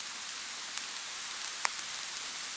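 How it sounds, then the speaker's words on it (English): Steady hard rain hisses down on surfaces outdoors in the Philippines, broken by a couple of sharper individual drop impacts. "And it's raining hard!"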